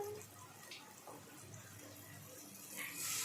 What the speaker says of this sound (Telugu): ముందుగా కలిపి రెడీ చేసి పెట్టుకున్నా చింత పులుసు పోసేస్తాం